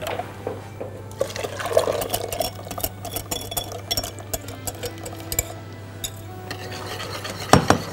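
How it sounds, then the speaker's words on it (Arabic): A cocoa, vanilla, salt and starch mixture is stirred in a metal pot, with continuous close scraping and clinking of a utensil over a low steady hum and a sharper clatter near the end. "نخلطهم كويس مع بعض ونرجعهم في الحلة"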